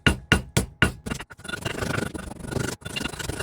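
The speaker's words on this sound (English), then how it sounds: "I'm going to hammer that over." A hammer strikes a bent metal bracelet cuff in four sharp, evenly spaced blows, then rough scraping and rubbing continues at close range.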